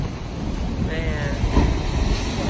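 Ocean waves surge against the rocky Mapu a Vaea blowholes on the coast of Tonga, a loud, churning wash mixed with heavy wind buffeting the microphone.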